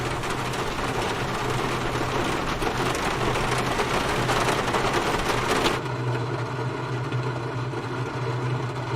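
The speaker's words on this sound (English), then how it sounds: "Look at that rain." Rain falls steadily in the flight simulation game Flight Simulator 2020, a dense hiss of rain on a surface over a low engine drone, shifting to a quieter, muffled tone partway through.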